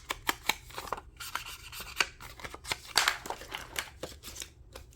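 Scissors snip a paper image for a purple collage journal tag, giving a string of sharp, close cuts in an irregular rhythm with soft paper rustling between them.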